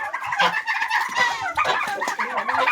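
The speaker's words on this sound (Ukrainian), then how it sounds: "А це теж півник, мабуть. Да, кокає." Continuous clucking and squawking from several roosters close together, busy and overlapping, with no talking.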